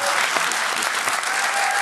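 Dense, loud audience applause at a student quiz show, a continuous wash of clapping with no break.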